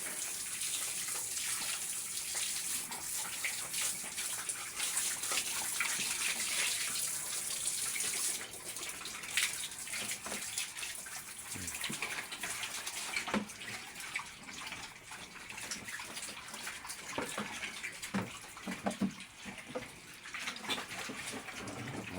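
Running water splashing over a pregnant sow being bathed in a pig pen, a steady hose-like rush with intermittent spatters and knocks, fairly close and without talk.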